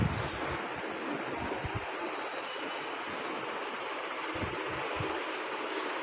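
Strong storm wind gusts across a rooftop area, a dense continuous roar with low buffeting thumps against the microphone, steady and loud throughout without voices.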